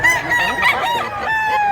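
Gamefowl at a buyers' market: a rooster lets out a bright, drawn-out crow, with hens clucking around it, close and loud across the short stretch.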